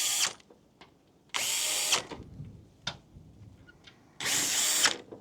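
Close, loud whirring bursts from a power drill driving bolts into an outdoor chaise lounge chair, three runs of different lengths with light handling taps in the quiet stretches between them.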